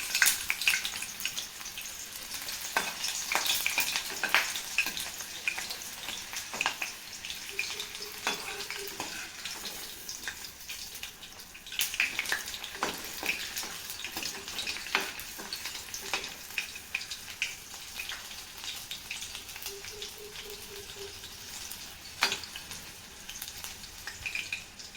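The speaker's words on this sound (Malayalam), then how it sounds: "ഇനി നമുക്കിത് ഓരോന്നായിട്ട് ഫ്രൈ ചെയ്തെടുക്കാം കേട്ടോ" Onion frying in a pan for an evening snack crackles and sizzles close by in a steady bubbling hiss, punctuated by sharp clicks and stirring knocks, with no talking.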